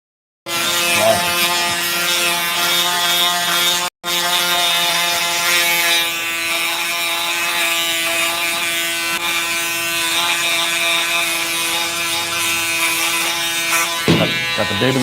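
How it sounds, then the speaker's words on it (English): An electric baby shaver buzzes continuously at close range in a men's barber salon, with a steady harmonic whine. It cuts out briefly once and then resumes before settling toward the end. "got the baby shaver."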